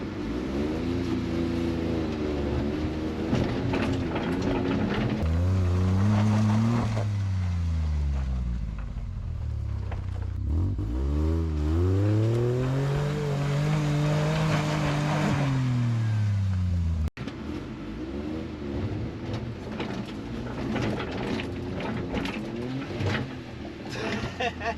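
A Suzuki Carry 4x4 kei mini truck crawls in low range, probably second gear, its small engine revving up and down in repeated drawn-out swells, fairly faint and steady throughout.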